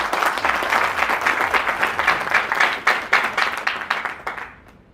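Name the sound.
audience applause, clapping hands loudly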